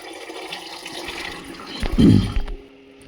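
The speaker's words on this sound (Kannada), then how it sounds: "ನೀರು ಹಾಕ್ಕೊಂಡು ನೋಡ್ಕೊಳ್ಳಿ" Water is poured into a pan of vegetable sambar, landing on a masala of sambar powder, coconut and onion mixed with tempering; a short, fairly loud splashing gush near the end, with no talking.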